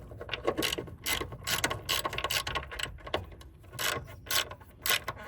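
Close, rapid clicking of a ratchet wrench loosening the middle running-board bolt on a fifth-generation Toyota 4Runner Limited, coming in repeated short bursts with brief pauses between strokes.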